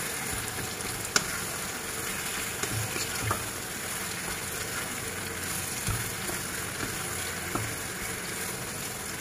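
Apple pie filling made with mixed green and red apples and brown sugar is stirred in a hot pan, a steady close sizzle with occasional sharp spoon scrapes and taps against the pan.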